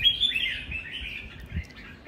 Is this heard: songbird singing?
yes